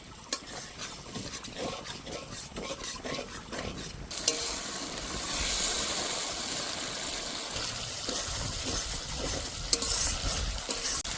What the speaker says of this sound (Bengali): স্বাদ মতো লবণ, 1 চামচ হলুদ গুঁড়ো। এবার ভালো করে কষে নেব।